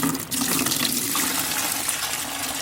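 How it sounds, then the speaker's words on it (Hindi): Water pours in a steady, loud rush into a bucket, a dense continuous splashing stream heard close up without speech, collected for making liquid fertilizer from vegetables. "इसी सारे पानी को मैं एक बकेट में डाल लूँगी"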